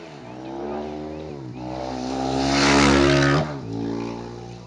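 A vehicle passes for a long stretch, with a sustained engine drone that swells to a peak and then eases off, heard from a rider's position on a motorbike.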